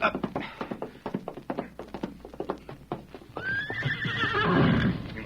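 Horse whinnies loudly near the end after a run of steady clip-clopping hoofbeats on hard ground, in an old Western radio-drama setting with a cavalry lieutenant and sergeant.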